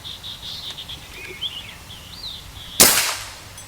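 A .38 caliber Predator Mini PCP air rifle fires once, a single sharp, loud crack with a short decaying tail, following a few seconds of quiet outdoor background with faint insect and bird calls.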